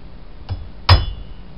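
A hammer strikes a piece of stainless steel set against a drive shaft U-joint yoke from a 1963 Jaguar E-Type: one light tap, then a sharper, louder metallic clink with a short ringing decay.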